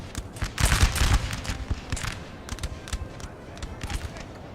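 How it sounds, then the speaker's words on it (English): Rapid bursts of gunfire crackle in a busy multiplayer game battle with Prussian fusiliers, with scattered shots continuing throughout at moderate volume. "we're in a nice little gunfire fight over here as well"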